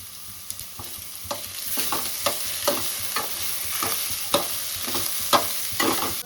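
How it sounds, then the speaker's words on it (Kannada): Potatoes with salt and turmeric frying in a pan, a low steady sizzle broken by repeated sharp scraping stirs at an even pace, close by, with nobody speaking. "ಈಗ ಆಲೂಗಡ್ಡೆ ಎಲ್ಲ ಚೆನ್ನಾಗಿ ಫ್ರೈ ಆಗಿದೆ"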